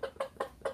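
Mother hen tethered on the ground beside her chicks, giving four quick, soft clucks in an even rhythm, close by and fairly faint, with no talk.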